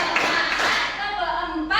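A class claps hands in a chanted counting rhythm led by a teacher's voice, with sharp clap bursts mixed into the singing and speech.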